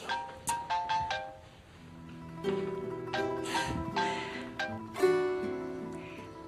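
A mobile phone left at home rings out with a melodic electronic ringtone: a loud run of repeating tones and chords, heard clearly with no talking over it.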